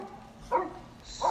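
Out in a neighborhood, a dog lets out a single sharp bark followed by the start of another near the end, fairly close over a quiet background with no voices.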